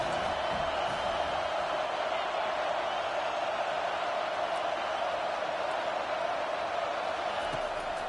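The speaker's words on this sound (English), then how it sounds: "Decibels rising as the crowd gets behind this defense on 3rd down." A stadium crowd in an American college football video game roars steadily on a third-down defensive stand, a dense continuous wash of cheering that stays loud throughout.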